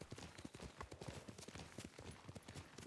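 A horse gallops in Ghost of Tsushima, its hooves clip-clopping in a fast, steady rhythm, close and fairly quiet.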